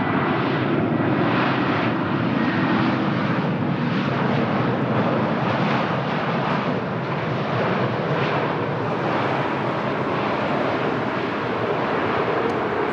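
EasyJet Airbus A320neo jet airliner at Lisbon Airport, a loud sustained engine roar with wind-like rushing, constant throughout and with no one talking.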